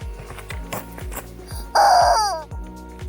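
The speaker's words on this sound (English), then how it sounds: "the chicken." A rooster crows loudly once, a clear rising-then-falling call lasting under a second, set against rhythmic low thumping and background noise on a desert bikepacking trip in Big Bend Ranch.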